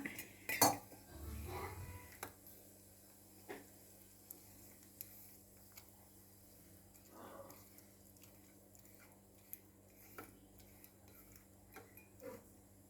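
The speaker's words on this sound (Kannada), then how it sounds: "ಈಗ 1-2 ಸ್ಪೂನು ಈ ಸಜ್ಜಿಗೆ ಹಿಟ್ಟು ಹಾಕಿ ಸ್ವಲ್ಪ ಗಂಟಿಲ್ಲದೆ ಕಲಿಸ್ಕೊಬಿಡೋಣ" Sparse spoon taps and light scrapes against a metal pot while mixing ragi flour lump-free, quiet and irregular, with a louder clatter near the start and a faint background hum.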